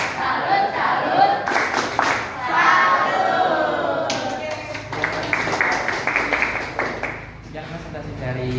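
A classroom group performs the 'tepuk salut' clap chant after a presentation, several hands clapping in quick rhythmic bursts close by, mixed with children chanting and talking throughout.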